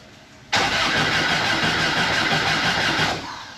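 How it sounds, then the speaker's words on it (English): A car engine cranks and catches after the fuel pump primes, then settles into a loud, steady mid-pitched idle for about two and a half seconds before easing down slightly, close by with no talking. "So you turn the key again, the fuel pump should turn on, and then theoretically you could start it."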